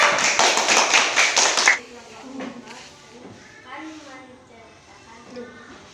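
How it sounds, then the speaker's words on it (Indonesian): Brief round of group clapping in a classroom for a student discussion group, dense and fairly loud for under two seconds, then stopping abruptly as a voice begins speaking. "Tepuk tangan untuk kelompok 4"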